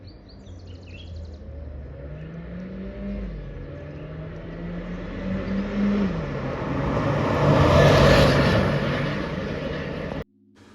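A 2025 Haval Jolion Pro SUV accelerates on its 1.5-liter turbo petrol engine, giving a steady, moderately loud drone that climbs in pitch and builds to a peak before cutting off abruptly.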